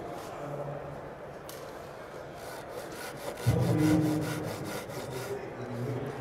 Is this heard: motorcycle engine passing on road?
no